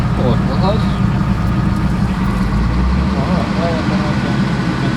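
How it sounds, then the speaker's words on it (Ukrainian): A remote-controlled tractor with an empty driver's seat runs its engine nearby, a loud steady low rumble throughout, with voices talking over it. "Хоча на місці водія порожньо трактор вправно виконує усі маневри"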